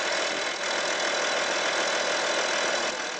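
An Audi 2.5 TDI Allroad diesel engine idles after a turbo repair, giving a steady, close, continuous knocking rumble with an even, unbroken drone throughout.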